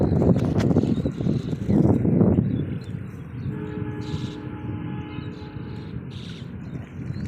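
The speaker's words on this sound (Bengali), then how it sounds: "আমাদের পরে মাথায় একটা ট্রেন চলে গেল" A train rumbles past overhead near a river, loud and close with heavy low rumble, then a steadier rolling clatter and faint high tones as it continues by.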